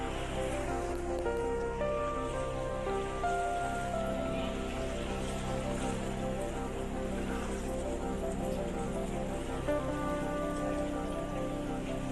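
The flooded Awang river near Hayaping rushing over its banks beside a bridge, a continuous broadband roar of churning water, steady and fairly loud with no talk.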